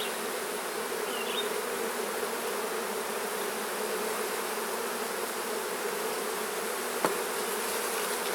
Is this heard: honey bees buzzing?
yes